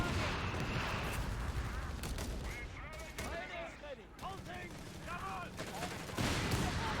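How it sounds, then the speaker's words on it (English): Anti-tank rounds fire at an infantry squad in Company of Heroes 3, with dense, rolling gunfire and booming shots sounding continuously amid whistling battle effects. "I've got the AT rounds engaged on that squad."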